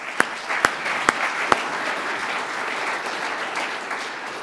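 A room audience breaks into steady applause at a community meeting, a few sharp close claps standing out over the dense, even clapping of the crowd.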